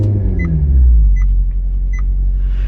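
A Maserati GranTurismo engine starting up, with a deep, loud rumbling idle settling down after the initial catch and a few short, faint electronic beeps repeating over it.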